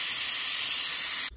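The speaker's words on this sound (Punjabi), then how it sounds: "ਦੋ ਵਿਸਲਾਂ ਸਬਜ਼ੀ ਨੂੰ ਆ ਗਈਆਂ ਵਾ" Pressure cooker whistle on a stove while potato curry cooks: a steady loud hiss of escaping steam that cuts off abruptly near the end.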